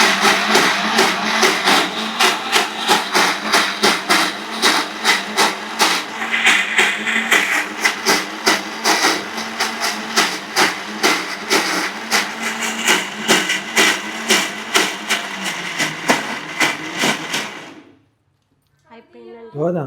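Mixer grinder whirring loudly as it blends gram flour batter with water in the jar, with rapid pulsing rattles and fluctuating motor whine for most of the time before stopping abruptly, followed by brief speech.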